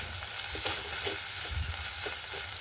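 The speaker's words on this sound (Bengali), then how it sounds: "গেঁড়িটা দিয়ে বেশ খানিকক্ষণ ভেজে নেব" Freshwater snails (gugli) frying in a pan, a steady close sizzle with occasional stirring clinks and scrapes.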